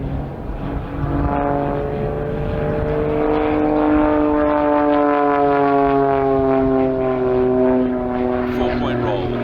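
A propeller aerobatic plane flying a freestyle routine at an aerobatics championship drones steadily overhead, its engine pitch sliding up and down as it climbs and turns, loud and continuous.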